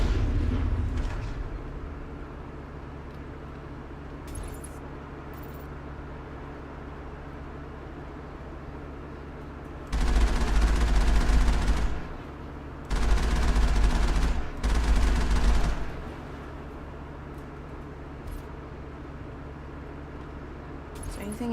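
Mass Effect gunfire rattles out in two or three loud sustained bursts of automatic shooting separated by brief pauses, over a low steady game hum.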